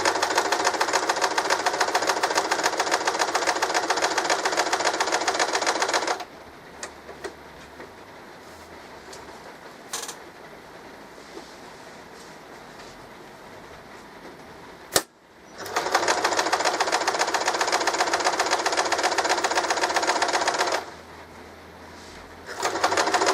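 A sewing machine stitching a buttonhole whirs in two loud, rapid, even bursts, each several seconds long, separated by quiet pauses with small clicks and a sharp knock.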